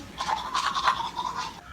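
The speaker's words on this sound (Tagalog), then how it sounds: "Nag-toothbrush ako." Someone brushes their teeth with a toothbrush, producing a close, steady scrubbing with quick back-and-forth strokes and no talking.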